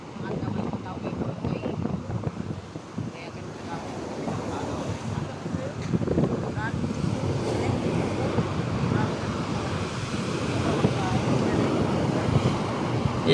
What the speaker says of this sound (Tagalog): Pumihit at malalaki ang alon.